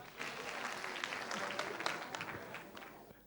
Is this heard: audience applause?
yes